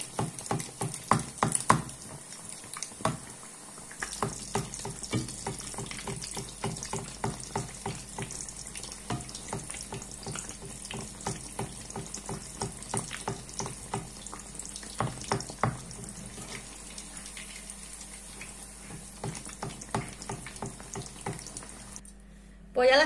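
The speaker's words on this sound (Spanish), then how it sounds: "Pues ya las tengo aquí fritas." Torrijas, soaked bread slices, fry in a pan of hot oil, giving a dense, continuous crackle and spatter with scattered louder pops, close by.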